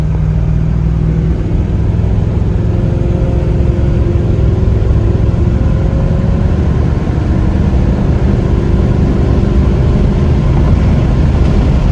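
A 1969 Plymouth Road Runner with factory air and power steering runs with a loud, steady low rumble close by, holding an even idle-like drone with no clear breaks.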